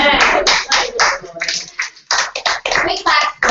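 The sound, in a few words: people clapping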